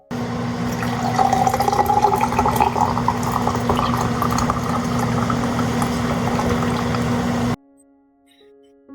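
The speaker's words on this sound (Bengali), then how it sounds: "এবার আমি এটাতে দিয়ে দেবো গরম জল।" Hot water runs into a cup holding a lemon cube, a continuous gurgling pour with a rising filling tone that lasts several seconds and then stops abruptly, leaving near silence.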